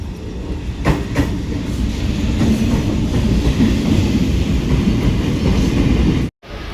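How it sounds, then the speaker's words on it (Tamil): A Chennai MRTS local electric train on the Velachery to St. Thomas Mount line rumbles steadily past at close range, a loud continuous roar with faint clickety-clack of wheels, cutting out abruptly near the end. "நம்மளோட ட்ரெயின் வந்துருச்சுங்க."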